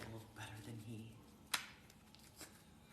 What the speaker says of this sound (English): my shuffle is so loud